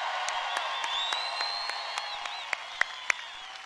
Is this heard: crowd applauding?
yes